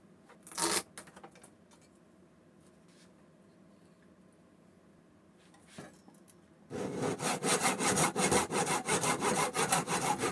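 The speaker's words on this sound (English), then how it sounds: "in a dry fit I mark the length of the binding and cut it in a miter box" Hand saw cutting a wooden binding strip in a miter box: a short rasp, a quiet pause, then steady, rhythmic back-and-forth sawing strokes that start loud and close and keep going to the end.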